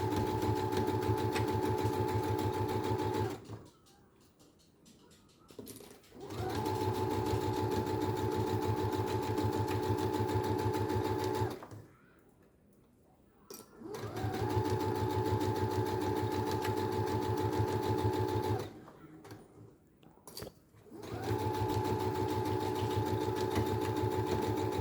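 A sewing machine stitches a fabric neckband in three long, steady runs with a buzzing, rhythmic motor, separated by brief quiet pauses, close and fairly loud.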